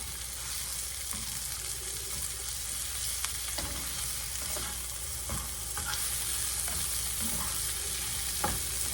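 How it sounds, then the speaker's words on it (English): Onions stirred and sautéed in oil in a pan, a steady close sizzle and fry with scraping stir strokes throughout, no talking. "Stir it around and get it all coated, you know, with your oil."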